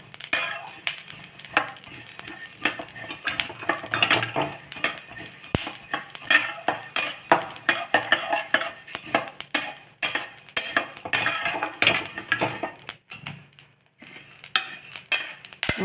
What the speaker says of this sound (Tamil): நல்லா சிம்மில் வச்சு வறுத்து எடுத்துக்கணும்